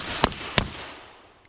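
Two sharp rifle gunshots crack about a third of a second apart outdoors at a shooting range, each followed by a fading echo, with no talk.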